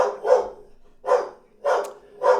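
A dog barks four times at a visitor in a loose rhythm, sharp and close, with short pauses between each bark.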